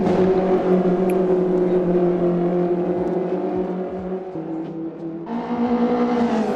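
Race cars, Praga R1 and Ginetta GT5 prototypes, overtaking at V.I.R., engines droning loud and steady at high revs before one car's pitch drops and climbs again as it passes.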